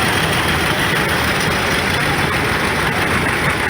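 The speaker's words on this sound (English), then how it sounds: "It is a 1931 John Deere B." A 1931 John Deere B tractor engine runs steadily in an old engine show parade, a constant low chugging rumble heard nearby and alone, without voices.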